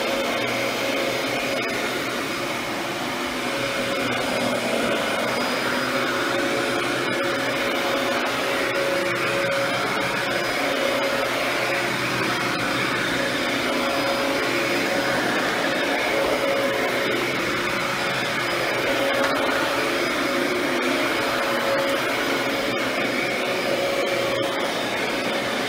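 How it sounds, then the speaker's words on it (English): A Dyson DC14 Animal upright vacuum cleaner runs with the brush roll engaged, giving a steady loud motor whine and airflow roar with a faint high tone, unbroken and alone. "if you recline the vacuum back, it diverts all the suction to the vacuum head and the brush roll turns on"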